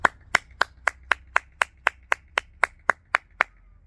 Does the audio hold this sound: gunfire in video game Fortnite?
no